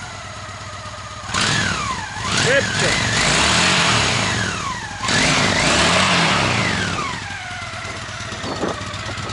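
Honda Shadow VT 750 motorcycle engine cranks and starts, then revs up and down in several loud, close swells before settling to a rough idle; someone speaks over the engine.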